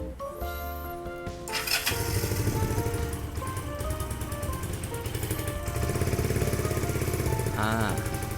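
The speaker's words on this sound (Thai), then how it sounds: "เดี๋ยวมาฟังเสียงท่อกันเลย" A GPX Legend 250 Twin motorcycle idles and runs steadily with a throbbing, uneven twin-cylinder exhaust rumble, close by, after a brief start-up burst; no talking.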